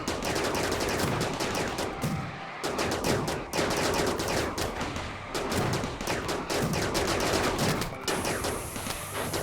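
Rapid, sustained bursts of turret gunfire in RimWorld, loud and close, crackling almost continuously with brief gaps, joined by a higher metallic ring near the end.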